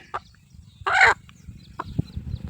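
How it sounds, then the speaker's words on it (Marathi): A rooster being caught clucks in short, scattered bursts, with one louder squawk standing out, close by amid faint background noise. "फायनली त्या कोंबड्याला पकडलाय"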